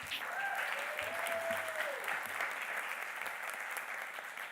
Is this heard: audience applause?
yes